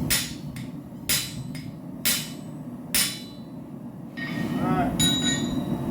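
A hammer strikes a chisel to punch through a steel railroad spike being made into a tomahawk, giving four or five sharp, loud metallic blows about a second apart, then a brief spoken word over a steady background rumble.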